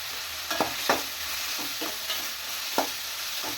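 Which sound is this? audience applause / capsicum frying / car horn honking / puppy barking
capsicum frying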